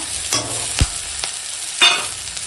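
Green chilies go into a pan of frying yard-long beans and potato with turmeric, giving a soft steady sizzle broken by a few sharp stirring scrapes and clacks, close and alone.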